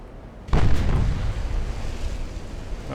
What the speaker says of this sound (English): That was a mighty blow to the side of the ship